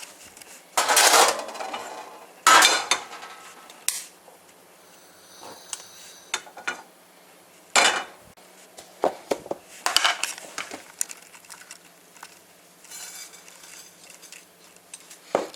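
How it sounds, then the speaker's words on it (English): Shredded coconut stirred in a frying pan over low heat: irregular scraping and clinking strokes, some loud and close, with quieter gaps between them and no talking. "you put the coconut on and just stir it, so I'll just do that now"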